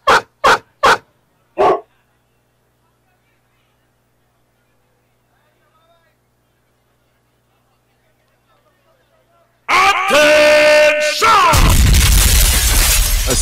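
A dog-barking sound effect blasts over the PA at a Super 7's cricket match: four loud, sharp barks in quick succession, then a pause before loud crowd and stadium noise breaks in.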